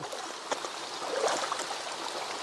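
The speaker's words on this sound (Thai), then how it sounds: "บริเวณนี้น้ำไหลเชี่ยว" A fast-flowing mountain stream in Thailand at night rushes and burbles steadily, a soft continuous flow with small splashes.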